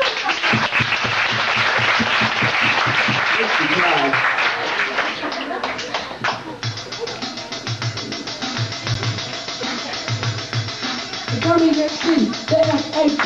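An audience on a 1992 show bursts into loud, dense applause for about six seconds, which then fades as music with a rhythmic voice takes over.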